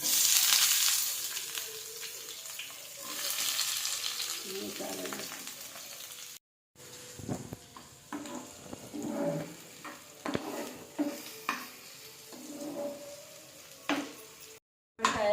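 Onions, green chillies and curry leaves frying in a pan for a pumpkin fry, with a loud opening sizzle that settles into softer crackling and intermittent stirring scrapes and knocks, briefly cut by gaps.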